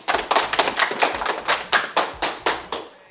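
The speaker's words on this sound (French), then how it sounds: "Nous pouvons applaudir notre copain Victor." A small group claps for Victor, a nine-year-old guest, in a football locker room: about ten loud, close hand claps in a steady, slightly uneven rhythm with no talking over them.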